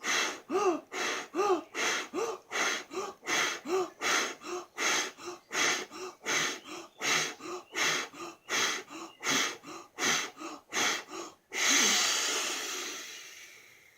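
Deep, rhythmic breaths drawn in and pushed out during a push-up warm-up, around twenty close, loud cycles in steady succession, ending in one long drawn-out exhale.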